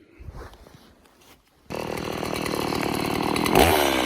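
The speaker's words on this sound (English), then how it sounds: "a good day for chainsaw work, and so let's get to it" A chainsaw cuts through tree branches broken down by heavy snow along a winter fence line; after a quiet start the saw roars in loud and close, then runs steady and strong to the end.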